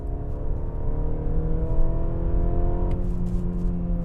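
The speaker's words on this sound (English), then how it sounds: "Really like the sound of this 4-cylinder" A 2023 Mercedes-Benz GLC 300 four-cylinder engine accelerates onto a highway, a loud, steady, rising drone heard from inside the cabin, with no talk.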